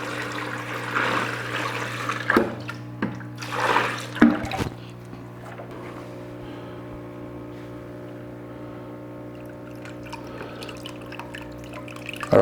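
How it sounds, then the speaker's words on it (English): Water splashes and trickles as it is poured in short bursts over a steady pump hum in a recirculating wort chiller, followed by a calmer stretch with faint drips. "I'm going to add a bit more water again here just to keep the pump submerged."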